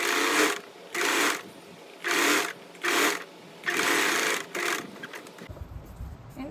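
A sewing machine stitching blouse fabric runs in five loud, close bursts of rapid whirring separated by short pauses, then stops.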